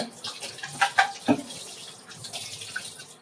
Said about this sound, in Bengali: আমার অনেকগুলো বোতল ভরা আছে এগুলো এখন আমি ধুবো ভালো মতো ধুয়ে